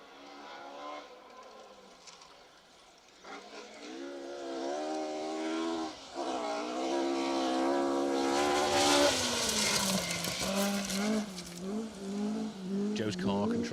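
A two-wheel-drive rally car on a stage roars closer and passes at speed, rising in pitch and revving hard, with a loud tearing sweep near the middle before fading slightly.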